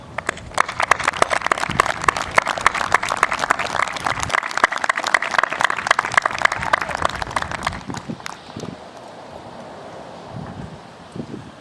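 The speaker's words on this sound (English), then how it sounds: "Please rise and give your parents a big round of applause." A graduation audience at Westhampton Beach High School's 2020 ceremony claps in a dense, sustained burst of applause for about eight seconds under light outdoor wind, then it tapers off to scattered faint claps.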